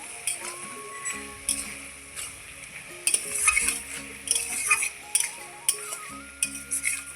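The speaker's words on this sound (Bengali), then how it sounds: "এই যে দেখেন আবারও ভালোভাবে একটু নেড়ে চেড়ে নিচ্ছি" Spinach curry with lentil dumplings being stirred in a pan, a scraping, clinking stir repeating in bursts over a soft continuous sizzle, with tonal music playing underneath throughout.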